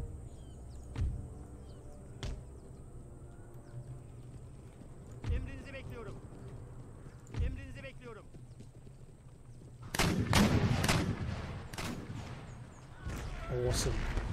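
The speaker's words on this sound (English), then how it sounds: "Keep the guns firing on fairly central targets." Artillery cannons fire during an Empire Total War battle, sounding as a series of spaced booming thumps followed by a denser cluster of blasts, over the noise of the battlefield with someone talking.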